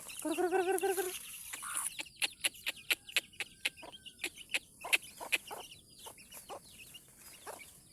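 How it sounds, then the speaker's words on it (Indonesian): Village chicks and their mother hen: the hen clucks in a loud harmonic burst at first, then a quick run of sharp chick peeps and clucks pattering close by, irregular but steady. "Anakan DOC-nya berkumpul sama indukannya"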